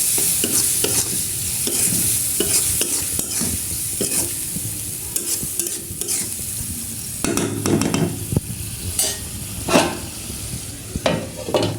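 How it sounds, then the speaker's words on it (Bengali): Chicken liver fries in spiced oil in a pan, sizzling continuously while a utensil stirs and scrapes against the metal in frequent close, clattering strokes. "কলিজাটা আগে কষে নিব ভালো মতো"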